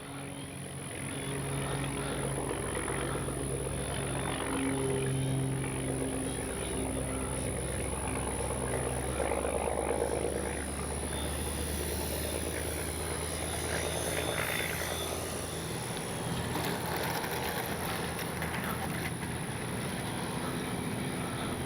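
An FMS 1400mm F4U Corsair RC model warbird flies overhead with a steady, droning propeller and motor whine that holds at a constant level throughout, with faint wind noise underneath.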